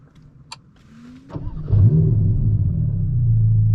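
A 2023 Ferrari Roma starts up close by: a few faint clicks, a brief starter whirr, then the engine catches with a deep rising rumble and settles into a loud, steady idle.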